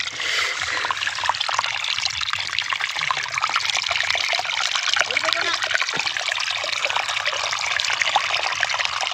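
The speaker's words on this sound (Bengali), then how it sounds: "পানি চলে আসছে" Water trickles and splashes steadily as it flows into a village wetland crop field planted with wheat, mustard and radish, a continuous close wash running throughout with people talking over it.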